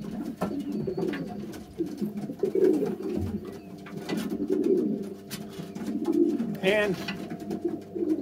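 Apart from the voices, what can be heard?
racing pigeons cooing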